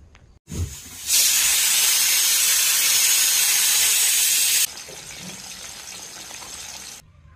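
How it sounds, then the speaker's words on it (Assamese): Fish seasoned with turmeric and salt dropped into hot oil: a short thud, then a loud, broad sizzling hiss for a few seconds that eases to a quieter, steady frying crackle before stopping. "এতিয়া মাছবিলাক মই ধুনীয়াকৈ হালধি আৰু নিমখ দি ভাজি লওঁ"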